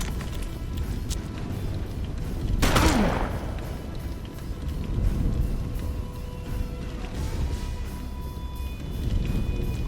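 Gunfire from the turn-based western video game Hard West, with one sharp burst standing out over a continuous game soundscape with low rumbling.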